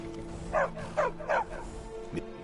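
War dog in Skyrim barking three times in quick succession, mid-loud and close, over a steady low ambient hum of the Markarth city setting.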